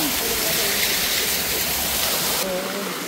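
A waterfall in Infanta, Quezon gives off a loud, steady, close rushing roar of falling water, with a voice talking over it.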